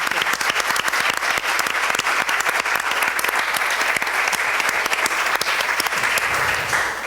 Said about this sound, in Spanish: un aplauso a los expertos